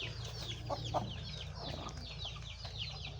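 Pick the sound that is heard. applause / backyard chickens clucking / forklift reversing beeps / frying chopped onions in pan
backyard chickens clucking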